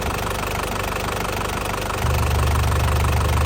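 A 2011 Isuzu Panther LS Turbo diesel engine idles up close with a steady, knocking clatter and a low thrumming rhythm that deepens and grows slightly louder partway through, with no talking.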